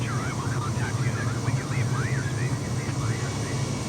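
Airplane in flight in a flight simulator game, a steady droning engine hum with a warbling tone riding on top, continuous and moderately loud.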